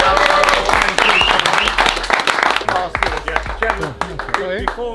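A crowd claps and applauds loudly, dense clapping with voices and cheers mixed in, gradually thinning toward the end.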